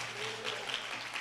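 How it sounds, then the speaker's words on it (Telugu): A church congregation at an anniversary celebration claps, a dense, steady wash of applause heard from within the hall at moderate volume. "గట్టిగా చప్పట్లు కొడదాం"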